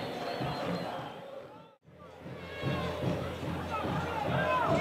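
Stadium crowd at a football match applauding as a player comes on, a broad, loud roar of clapping and hubbub that drops away briefly and then swells back fuller.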